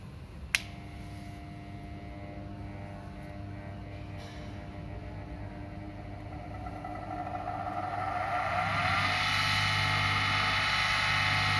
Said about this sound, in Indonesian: Pertama kita nyalakan mesin